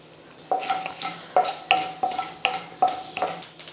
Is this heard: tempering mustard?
yes